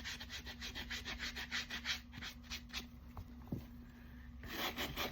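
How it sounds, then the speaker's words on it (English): A magic eraser scrubbed back and forth on a preowned shoe, quick rhythmic rasping strokes up close, pausing briefly before a final burst of scrubbing. "Rub it a little bit with the magic eraser."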